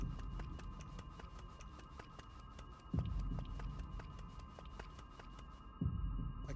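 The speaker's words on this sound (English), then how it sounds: "I can hear a heartbeat." A slow, deep double-thump heartbeat in The Legend of Zelda: Echoes of Wisdom, beating twice over a steady humming, throbbing game drone.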